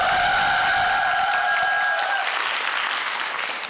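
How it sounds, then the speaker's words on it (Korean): Studio audience of a Korean TV quiz show applauding, a dense, steady wash of clapping that fills the clip from start to end, with a sustained musical tone under it for the first two seconds. "박수 한번 부탁드리겠습니다."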